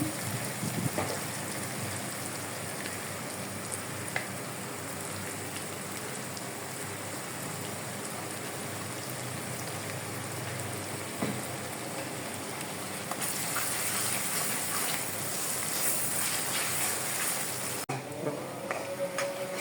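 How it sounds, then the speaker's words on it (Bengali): Hilsa fish frying in hot oil for a Bangladeshi bhuna, giving a steady, dense sizzle that runs unbroken throughout. The crackle turns brighter and louder toward the end, and a voice speaks faintly underneath. "ভালো করে ভেজে নিতে হবে।"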